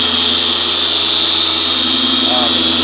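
Porter-Cable polisher running steadily with a microfiber pad while buffing the black hood of a 2014 GMC Sierra, a loud continuous motor whine with a hum beneath, close and unbroken throughout.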